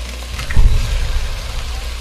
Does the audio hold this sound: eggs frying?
yes